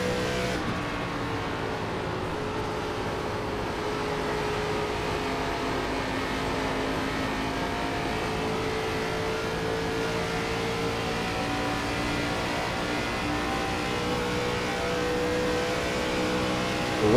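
A stock car engine in the ARCA Menards Series at Kentucky in iRacing drones steadily and fairly loud throughout, a continuous racing roar with little change, and no voices over it.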